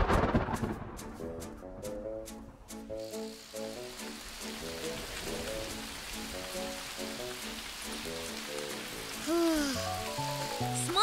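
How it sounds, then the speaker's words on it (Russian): Rain falling in an animated series scene, a continuous soft hiss that begins after a few scattered drips and continues under a background music score. "Давай переждем дождь."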